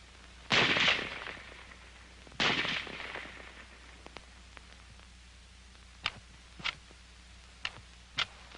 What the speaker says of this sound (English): The rifle will fire each time the trigger is pressed until the magazine is empty.